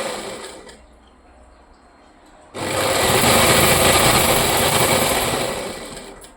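A sewing machine stitches folded fabric to close up a rabbit-ear cap, starting abruptly and then running as a loud, steady, close mechanical whir after a short quieter stretch.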